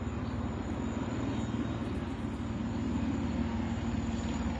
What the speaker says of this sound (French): Ah, les deux hélicoptères ensemble, ça va?